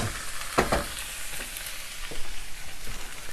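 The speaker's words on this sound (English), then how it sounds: "Get that cabbage cooked down." Cabbage and other vegetables stir-fry in a pan over high heat with a continuous sizzle and a few scraping stirs, steady and close, with no talking.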